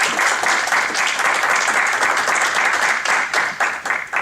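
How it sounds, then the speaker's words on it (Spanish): Audience at a climate modeling panel of a national research congress claps loudly and steadily, dense applause that thins into scattered individual claps toward the end. "por favor, un fuerte aplauso a esta mesa muy interesante."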